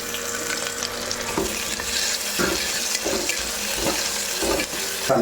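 Sliced big onion sizzling in hot oil in a pan, a steady bright frying hiss with periodic scraping thumps from stirring, close and alone without talk.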